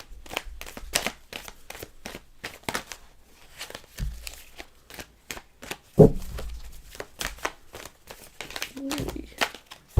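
Tarot cards are shuffled by hand, a brisk sequence of crisp riffling and slapping clicks in an uneven rhythm, close and fairly quiet.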